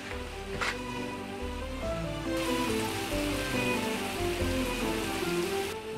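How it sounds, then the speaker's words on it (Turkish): Heavy rain pours in a constant broadband rush, with low sustained musical tones running beneath it. "Yağmur da arttı iyice."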